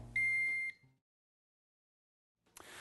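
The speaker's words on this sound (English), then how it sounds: "it actually reverts back to the voltage measuring screen with, of course, the warning buzzer" A Megger MIT400 insulation tester gives a short, steady electronic warning buzzer tone for about half a second, then silence, followed by faint rustling noise.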